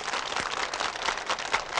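A crowd claps steadily in a continuous wash of applause, close and fairly loud, with no music underneath.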